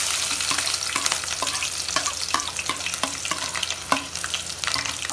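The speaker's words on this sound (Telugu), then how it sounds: "ఆనియన్ మంచి బ్రౌన్ కలర్ వచ్చే వరకు ఫ్రై చేసుకోవాలి." Onion and green chilli frying in a pan with cardamom and cinnamon for mushroom curry, a bright continuous sizzle with rhythmic stirring scrapes, close and steady.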